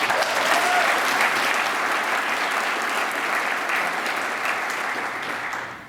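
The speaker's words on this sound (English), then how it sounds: "If you give him a round of applause, I'd appreciate it." An audience at the Great Plains Fire Summit applauds in a dense, steady wash of clapping that carries loud and unbroken before tapering slightly at the end.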